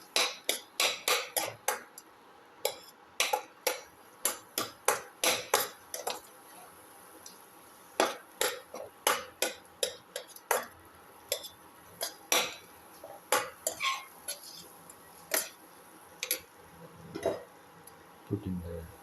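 Ginger and tomato are sautéed in a pan. A spoon taps and scrapes against the pan in quick irregular clicks and knocks through most of the stretch, over a faint low background.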